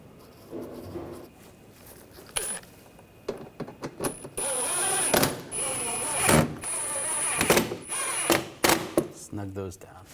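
A power drill whirs in repeated short bursts, driving screws into the plastic front inner fender liner of a Nissan Rogue, close up with brief pauses and clicks between runs.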